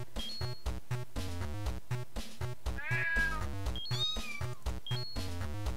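Cartoonish cat meows from the video game Clumsy Paws, several short high calls and a drawn-out yowl over a steady, bouncy game music loop, with no talking.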